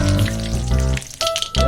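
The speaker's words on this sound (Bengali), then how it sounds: "এখানে আমি তেল বসিয়ে দিয়েছি, এতে আবারও সর্ষে দিয়ে দিলাম, আবার কারি পাতা, শুকনো লঙ্কা দিয়ে দিলাম" Mustard seeds, curry leaves and dried chillies sizzle and spit in hot oil in a pan, a loud, close frying crackle that drops briefly before resuming, with faint clinks over it and no talk.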